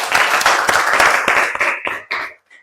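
A class of students applauds together indoors, a dense burst of clapping that holds steady for about two seconds and then thins to a few scattered final claps.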